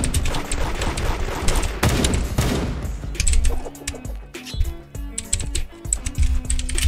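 Rapid gunfire in the Roblox game Da Hood, fired in quick bursts and volleys over keyboard clicking, with some background game noise.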